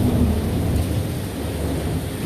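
Steady rain hisses through a short stretch of an Austin thunderstorm under a low, continuous rumble of thunder, heard from shelter beneath an awning.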